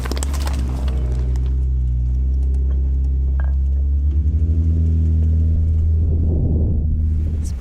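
Off-road vehicle crawling over heavy rocks on a New Mexico trail, a loud low engine rumble with rhythmic bumps and revs, brief voices at the start and end.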